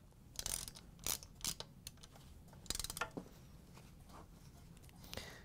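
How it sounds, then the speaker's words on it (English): A ratchet with a large Phillips driver tightens screws on a Whirlpool, KitchenAid or Maytag case gasket, giving close, quick bursts of clicking ratchet ticks with short pauses between them. "grab our ratchet with the large Phillips driver and tighten them down"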